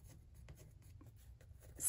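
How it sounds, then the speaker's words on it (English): Pencil lines scratched across paper while sketching a landscape before watercolor painting, a soft continuous scraping with light strokes, fairly quiet and close, louder at the end. "I'm moving the pencil,"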